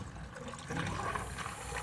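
A 50-50 coolant mixture poured into a car's cooling system, a soft steady gurgling trickle of liquid heard up close, growing slightly fuller partway through.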